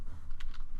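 A few quick keystrokes on a computer keyboard, close and crisp, clustered clicks within under a second with no talk.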